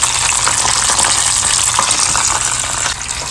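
Sand trout fries in hot oil with a loud, steady, close sizzle that holds throughout, its crackle dipping slightly near the end as the fish is flipped.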